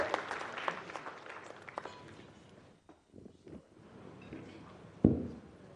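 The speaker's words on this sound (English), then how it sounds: "A round of applause for the former Deputy Agri Minister." Audience applause at a business breakfast meeting starts moderately and thins out to scattered faint claps, ending with a single sharp knock.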